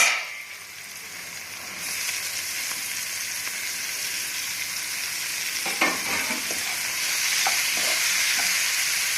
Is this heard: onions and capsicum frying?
yes